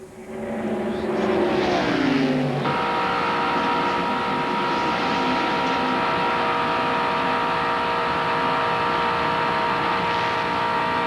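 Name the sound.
ARCA stock cars racing at Talladega Superspeedway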